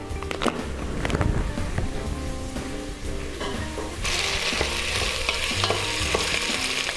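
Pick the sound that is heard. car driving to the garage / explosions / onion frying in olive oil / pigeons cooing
onion frying in olive oil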